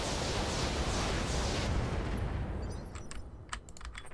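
Heavy weapons fire from mechs in the BattleTech mod Roguetech, loud dense barrages roaring for about two seconds, then fading into scattered sharper impacts and crackles.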